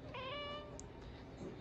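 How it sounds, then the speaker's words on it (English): A single soft, fairly faint meow from a domestic cat, rising briefly then trailing off in a quiet room. "God, this cat's the best."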